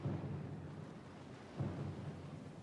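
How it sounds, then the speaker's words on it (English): Thunderstorm at sea in the Pillars of Eternity II video game: a steady low rumble of rain and wind with a rolling thunder swell near the middle, loud and continuous, with no voices. "Lost and alone in the storm?"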